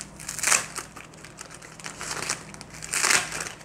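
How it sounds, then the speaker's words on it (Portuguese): Flower-cutter shears snip through bundled straw for a homemade broom, giving dry crunching, crinkling cuts in a few irregular bursts, close and fairly quiet. "Com o cortador de flor, eu vou começar a cortar aqui a altura que eu quero."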